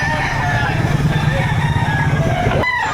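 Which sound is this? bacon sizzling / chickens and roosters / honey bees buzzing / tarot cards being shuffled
chickens and roosters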